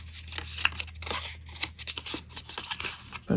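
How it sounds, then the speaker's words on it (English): Scissors snipping a small angled corner out of a folded paper card for an easel card, a few crisp close cuts with light paper handling between them, no talking. "And then we got to cut that corner. So we're going to cut a little angle out of there."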